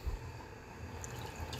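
A little water poured into palm oil rice cooking in a pot, giving a soft, steady splashing and dripping with a faint sizzle underneath, close and quiet, with no talking.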